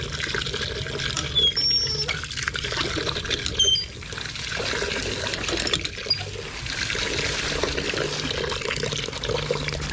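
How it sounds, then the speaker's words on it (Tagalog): Water pours steadily into a container holding four kilos of triple-14 fertilizer, a continuous splashing trickle with no one speaking. "lalagyan natin ng tubig"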